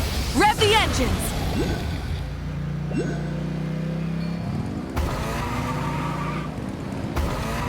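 Engines revving in the Genshin Impact game during the Citlali story quest: a low motor drone builds and rises in pitch, layered with other game effects and a brief vocal sound near the start.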